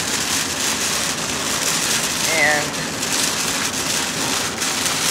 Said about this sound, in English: wow, now it's raining.